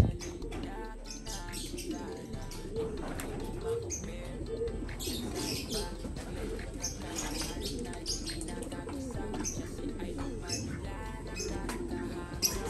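A racing pigeon coos softly as it enters the loft, with scattered chirps from other birds and people talking nearby throughout.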